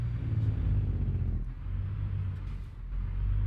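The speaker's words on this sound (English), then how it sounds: "This truck sounds so good." A truck engine in American Truck Simulator drones with a deep, steady rumble that dips briefly and then swells again, close and loud with no voices.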